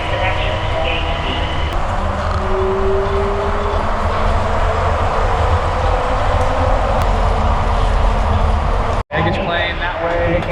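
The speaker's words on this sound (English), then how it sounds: "The train is departing." An airport people-mover train departs a station, a loud, steady rumble and rolling hum up close that runs throughout and cuts off abruptly near the end.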